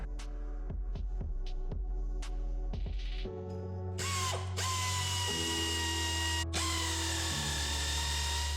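A power tool ratchets out the rear brake caliper bolts on a BMW F25 X3, starting with rapid clicking bursts, then giving way to a steady whirring drone that runs loud and close with no talk.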